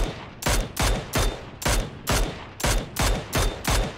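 Rapid gunfire in PUBG: about eight sharp, loud shots in a steady, evenly spaced rhythm, each with a brief echoing tail, close and alone without talk.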